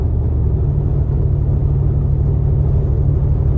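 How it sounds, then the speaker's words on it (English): A 2021 Brabus WideStar Mercedes-Benz G550 coasts down an interstate in ninth gear, giving off a steady, deep engine rumble with a low droning hum that carries on evenly without any talking. "a nice rumble when you're in that 9th gear, kind of coasting down the interstate"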